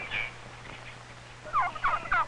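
Turkeys gobble in short, warbling bursts, one at the start and a rapid cluster near the end over a low hum.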